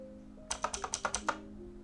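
Seven rapid, crisp keystrokes clatter on a computer keyboard in a quick, even burst, close and fairly faint, with no voice over them.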